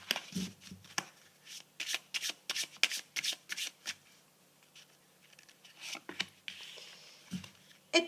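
Tarot and oracle cards being shuffled by hand, a close run of crisp riffling bursts and soft slides repeating irregularly throughout, with no voice.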